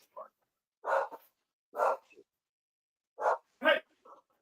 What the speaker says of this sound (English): Dogs barking out.